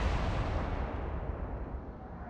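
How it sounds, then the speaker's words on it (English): Heavy battleship gun salvos in a naval combat game set in the Atlantic, a deep continuous booming roar that slowly fades, loud and without voices. "now we have two battleships firing on her"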